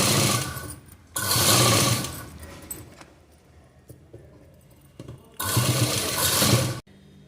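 Sewing machine stitching blouse fabric in two loud, close bursts of fast rattling whir, with quieter handling noises in the pause between.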